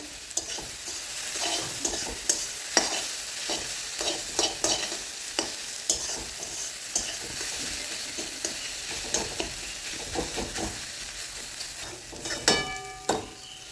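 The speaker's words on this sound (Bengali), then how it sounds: "ডিমের ভুজিয়াটা এরকম ঝুড়ো ঝুড়ো করে ভেজে নিতে হবে যেন বেশি বড় বড় দলা না থাকে" Scrambled egg bhujia being stirred and fried in a pan, the spatula scraping and tapping repeatedly over a steady sizzle throughout, close and clear with no talk.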